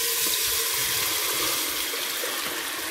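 Tomato sauce poured into a pan of fried garlic gives a steady, loud broadband hiss and wet rush that holds unbroken for about three seconds, with no one speaking.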